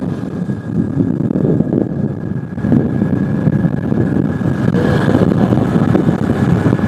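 Rushing wind buffeting the microphone while riding a motorbike on a rainy summer day, a loud continuous low roar that swells slightly partway through, with no talk.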